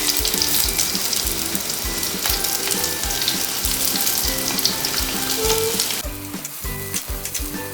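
Chopped shallots hit hot oil with fenugreek seeds in a pan for Kerala fish curry, a loud close sizzle with crackles and rhythmic spoon-stirring clatter, dropping off slightly near the end, no talking.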